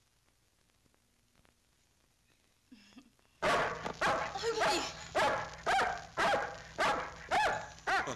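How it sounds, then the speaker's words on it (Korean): A dog barks in a steady series of loud, close barks after a quiet opening, with a brief voice just before the barking starts. "짖지 마."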